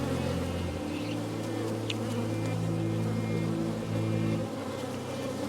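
Honeybees drone close by during a beehive inspection, a continuous layered buzz with shifting pitch as individual bees pass near, and brief faint sounds of handling over it.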